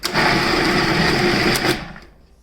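Electric grinder whirring steadily as it grinds fruit cake ingredients, a loud, continuous motor whine lasting about two seconds before cutting off and spinning down.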